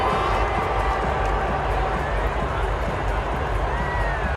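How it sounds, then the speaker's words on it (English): A huge stadium crowd at the Super Bowl roars in a steady, dense wash of cheering and babble that holds at full volume without a break. "You can hear the crowd go wild when she's sipping on that beer."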